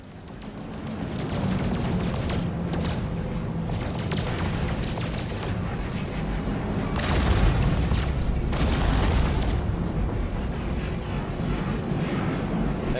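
Weapon fire in the space exploration video game No Man's Sky, a dense stream of loud booming blasts and bursts that runs on without a break and swells louder midway.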